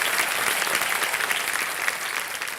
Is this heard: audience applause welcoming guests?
yes